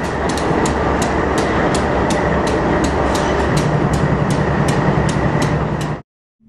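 A freight train rolls steadily past near Glenwood Canyon, a loud continuous rumble with regular rail clicks for about six seconds before it cuts off abruptly.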